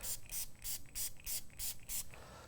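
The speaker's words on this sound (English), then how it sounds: "I'm gonna use that to spray this out a little bit" Eight quick, soft spray bursts from a spray bottle cleaning a Gaggia Classic espresso machine group head, in a steady rhythm, each a short airy hiss, close by and quiet.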